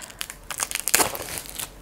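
Plastic packaging around limited-edition Pokémon notebooks is pulled open by hand, giving a steady run of close, soft crinkling and crackling with a few sharper crunches.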